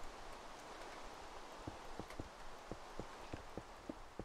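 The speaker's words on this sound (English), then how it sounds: "Oh, I hate rain." Rain in a building video game, a soft, faint patter with scattered irregular drop ticks growing more distinct toward the end, heard alone without talk.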